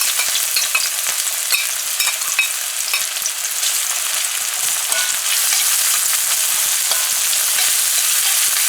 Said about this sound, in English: the first thing we're gonna add to our hot oil here is our onions